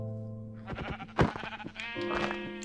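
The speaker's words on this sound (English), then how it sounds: "Man, sheep are just pitiful." Sheep bleating in Minecraft on Xbox One, several close, loud wavering bleats in quick succession, one sharp louder cry near the middle.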